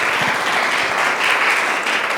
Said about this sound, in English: another round of applause again for our presenters